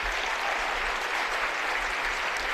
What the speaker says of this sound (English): Get a round of applause from everyone here in the gymnasium